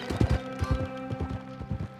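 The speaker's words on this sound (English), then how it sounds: "This horse is majestic." A horse in Red Dead Redemption 2 gallops in a quick, uneven hoof rhythm over roughly two seconds, with a brief whinny mixed into the hoofbeats.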